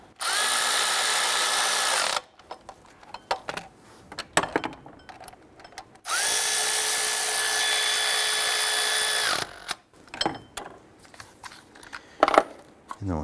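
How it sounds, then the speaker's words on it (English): A power tool snugs down 15mm valve cover bolts on a 1999-2004 Jeep Grand Cherokee 4.7L V8 in two loud, close whirring bursts of about two and three seconds, with clinks and handling noises between them. "Let's go ahead and snug down our 15mm bolts."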